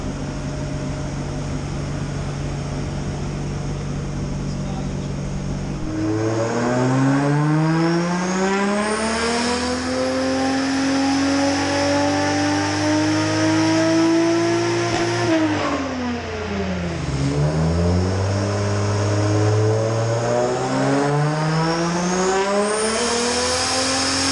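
A Nissan S13 revs hard on a dyno, its engine pitch climbing steadily to a high scream, dropping sharply, then climbing again in a second loud pull, with no talking.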